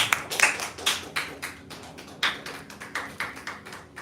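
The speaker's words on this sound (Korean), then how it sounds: "우리 하나님 아버지께 감사의 박수 드리겠습니다." Scattered congregation clapping in church after the Lord's Prayer, offered as thanks to God; uneven, fairly quiet claps come in loose bursts rather than a continuous roar.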